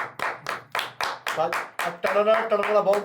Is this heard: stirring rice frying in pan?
no